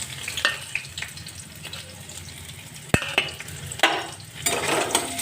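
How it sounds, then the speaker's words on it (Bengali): Onions sizzle steadily in hot oil with chillies in a wok, a constant crackling hiss close by, with occasional clinks and scrapes of a spoon stirring the pan. "পেঁয়াজটাকে তেলের সঙ্গে একটুখানি ভেজে নেব"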